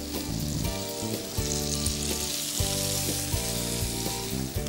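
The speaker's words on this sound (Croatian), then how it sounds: "Piremo na laganoj vatri da luk ne bi zagorio." Chopped onion frying in butter in a hot pan over low heat, a steady close sizzle and crackle that runs continuously under background music, with no talk.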